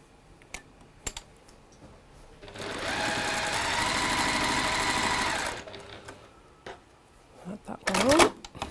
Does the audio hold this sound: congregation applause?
no